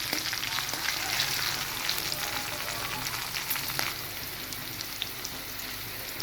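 Green chillies and cumin seeds fry in hot oil with a steady, fairly soft sizzle, dotted with sharp little pops and spits scattered throughout.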